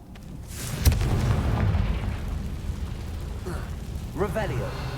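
A Confringo fire spell from Hogwarts Legacy bursts with a loud boom near the one-second mark, leaving a rumbling roar that lingers, while a voice talks in the background.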